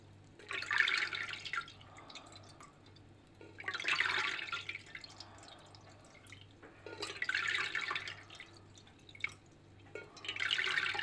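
Whey dripping and trickling from homemade cottage cheese made from farm milk, heard in four separate bursts of wet splashy drips, close and fairly quiet over a low steady hum.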